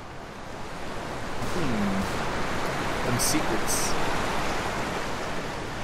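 Steady rushing waterfall in Left 4 Dead 2 on the Death Island map, a broad hiss that swells slightly and carries on under a brief spoken remark and a few sharp game sounds.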